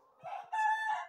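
Isa Brown laying hens cluck and give a short crowing call close by, one loud drawn-out cry following softer clucks, with no voices heard.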